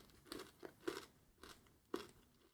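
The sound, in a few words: crunching Nestle Milkybar mini eggs' crisp sugar shell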